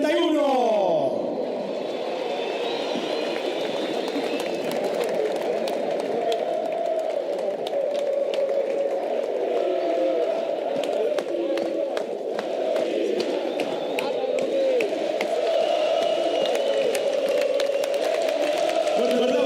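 A stadium crowd at an Olimpia versus Nacional match roars and applauds coach Garnero, a dense, steady wall of cheering and clapping mixed with chants and a voice over the top for the whole stretch.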